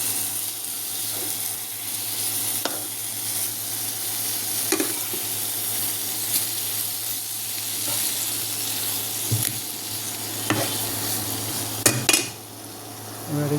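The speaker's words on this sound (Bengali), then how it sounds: "মাছগুলো ভাজা ভাজা হয়ে গেছে।" Pieces of rohu fish fry in a spice paste in a pan, a steady sizzle broken by occasional scraping stirs and clinks, close and continuous.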